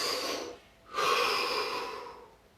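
A single deep breath during a guided relaxation exercise: a long, close airy inhale, a short pause, then a fuller, louder exhale that slowly fades out.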